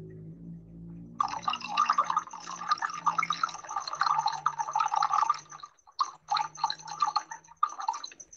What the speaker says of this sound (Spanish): voy a llenar con agua hasta el 1000 o hasta donde tengo la marca de 1 litro